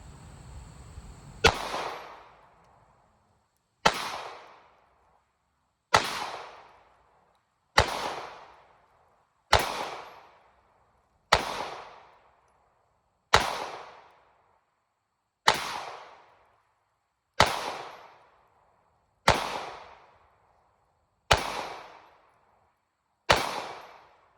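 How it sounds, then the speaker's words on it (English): Thirteen sharp, evenly spaced pistol shots from a concealed carry handgun crack out one by one, roughly two seconds apart. Each fades quickly into near silence before the next. "let's go ahead and get some shots in"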